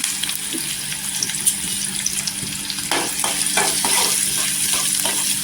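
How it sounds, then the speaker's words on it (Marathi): Chopped onions frying in oil with curry leaves in a pan for a Marathi potato rassa, a steady hissing sizzle with occasional stirring scrapes and clinks, close and moderately loud. "कांदा गोल्डन कलरवर छान असा फ्राय करून घ्यायचा"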